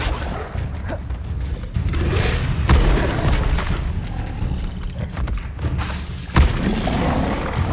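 Confringo blasting spell in Hogwarts Legacy going off amid combat, heavy booming blasts with low thuds and whooshes, two sharp strong hits standing out over a rumbling game soundscape.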